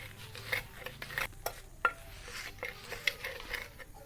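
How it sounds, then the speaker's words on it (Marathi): Hot roasted kharda being rubbed and crushed in the pan just off the heat, a string of close scraping and grinding strokes with sharp knocks of metal on metal, irregular in rhythm and fairly quiet. "आता हे गरम गरमच आहे ना तोवरच आपण हे ताब्याने चांगला असा घसरून घ्यायचा"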